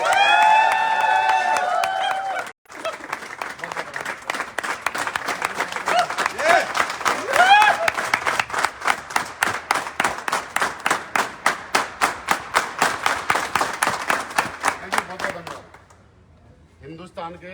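Audience applause and cheering welcomes a guest onto the stage at a motivational event, with dense clapping building into steady rhythmic unison claps before fading out, after a stretch of amplified speech over the crowd at the start.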